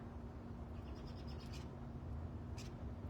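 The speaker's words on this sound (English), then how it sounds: "If your ears can hear that beautiful bird song" Soft bird calls, a few brief chirps and whistles, rising faintly over a steady low hum of background noise.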